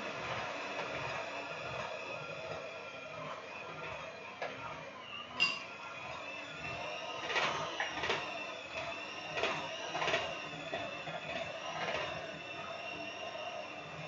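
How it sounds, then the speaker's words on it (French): An electric hand mixer with two beaters whirs steadily through yogurt cake batter, a continuous mid-level motor drone with occasional clinks of the beaters against the bowl, heard alone without talk. "un fouet électrique, c'est-à-dire un batteur qui a 2 fouets qui vont mélanger en même temps"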